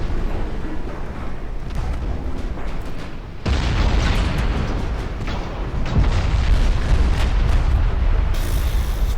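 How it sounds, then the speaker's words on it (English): A torpedo strikes a ship in a naval warfare game set in a Japanese campaign, with a heavy booming explosion over a constant rumbling wash of battle noise that swells louder midway, dense and without pauses. "Torpedo. Hit."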